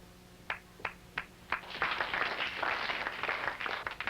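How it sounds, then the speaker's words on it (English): A few scattered claps in a saloon quickly swell into full crowd applause that stays steady and fairly loud to the end. "Folks, a round of applause."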